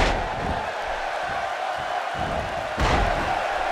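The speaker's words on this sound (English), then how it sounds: "by the sound of this crowd, I think they're getting what they wanted" A wrestling arena crowd in the WWE 2K16 video game roars as a steady, loud wash of cheering, with one heavier surge of noise near the end.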